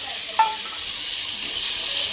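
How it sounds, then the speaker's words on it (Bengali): Ginger garlic paste sizzles steadily in a frying pan with fried onions, a continuous bright hiss broken by two brief stirring scrapes, close and fairly loud with no talk. "আদা রসুনের পেস্টটা দিয়ে একটু নেড়ে নেব।"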